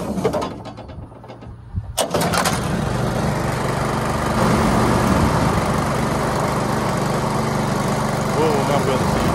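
A farm machine's engine starts up after an oil top-off and settles into a loud, steady mechanical running drone that continues to the end.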